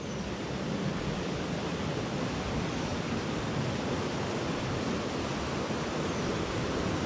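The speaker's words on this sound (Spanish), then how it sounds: "Ahora sí viene cargado de agua." Broad, steady roar of a swollen river running heavy with water near Huehuetla, Hidalgo, a constant loud rushing wash without breaks or voices.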